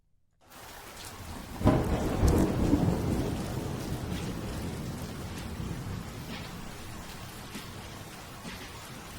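Steady rain with a rolling rumble of thunder in the dark city of the video game Vaudeville, a loud crash near the start fading into continuous downpour.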